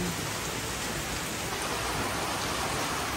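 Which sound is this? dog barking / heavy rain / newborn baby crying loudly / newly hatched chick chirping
heavy rain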